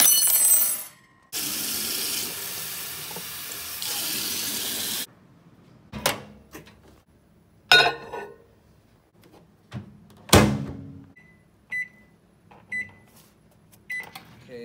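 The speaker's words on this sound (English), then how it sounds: "now that the water is in the microwave" A microwave oven heating water for ramen hums steadily for about four seconds, then stops; several sharp door clunks and clicks follow, with a few faint short beeps near the end.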